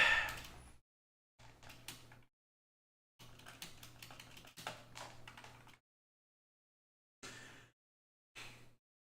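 Bursts of computer keyboard typing during a speedrun session, quick clustered key presses close to the mic separated by silent pauses, with a steady low hum under each burst.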